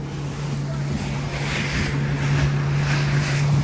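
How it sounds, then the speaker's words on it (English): A water taxi cruises along the coast near Puerto Vallarta, Mexico, toward Quimixto, its engine humming steadily and loudly beneath continuous wind buffeting and the rush of waves against the hull. "So the water taxi ride over to Quimixto is between 10 and 15 minutes long, depending on the conditions."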